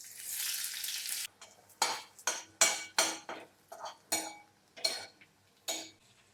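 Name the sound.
onion frying in hot oil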